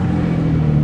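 A truck idles loudly through a 3-inch exhaust with 2.5-inch test pipes, giving a deep, steady rumbling drone up close.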